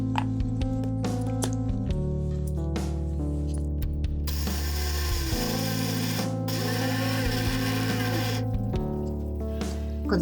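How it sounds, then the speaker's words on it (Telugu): An electric mixer grinder runs steadily as it grinds cooled roasted peanuts with salt for chutney. The motor whirs loud and continuous, its tone dropping in places as the load shifts, with rattling and grinding of the jar throughout. "దీనిలో తగినంత ఉప్పు వేసుకొని మిక్సీ పట్టుకోవాలి."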